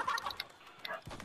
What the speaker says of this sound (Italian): Guarda quanto corre sto pollo.